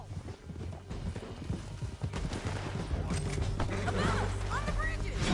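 Horse hooves gallop in the Western video game Red Dead Redemption 2. Busy clip-clopping runs under gunfire and game action, with voices talking over it.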